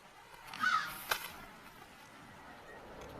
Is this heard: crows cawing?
yes